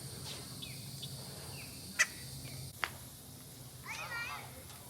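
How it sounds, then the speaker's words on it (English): A bird calls from a tree near a spring in the Smoky Mountains, giving several short chirps, a couple of sharp clicks and a harsher rasping call near the end, over a low outdoor background with faint voices. "There's some bird in this tree."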